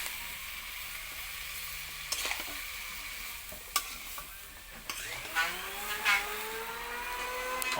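Dried fish curry with vegetables sizzles and is stirred on a clay stove, steady frying hiss with scraping strokes and a few clatters of the spoon.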